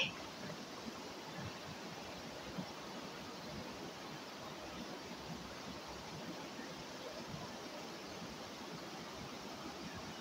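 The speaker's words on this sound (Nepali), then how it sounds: "यहाँ चाहिँ हामी नमस्ते झरनाको छेउमै आइपुग्यौँ" Steady broadband rush of the Namaste waterfall near Dharan, a constant distant wash of falling water with no breaks, fairly faint and unchanging throughout.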